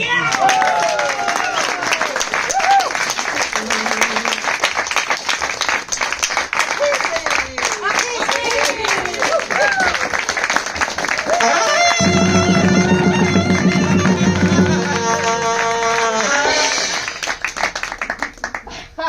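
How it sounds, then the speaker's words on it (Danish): An audience applauding at a live event, sustained clapping with some cheering beneath a loud voice speaking and music that comes in partway through. "Og lad os klappe af publikum."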